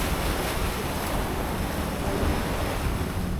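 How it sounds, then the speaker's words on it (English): An off-road truck pushing through the Cannibal Creek water crossing on Cape York, a steady broad wash of churning water and rumble with wind buffeting the microphone throughout, continuous and fairly loud, no voices. "straight away we were into another water crossing at Cannibal Creek"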